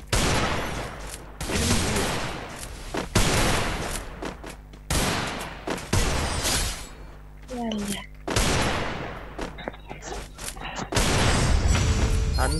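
Repeated bursts of gunfire from a shooting video game, loud rapid volleys separated by short gaps, with a voice talking between shots.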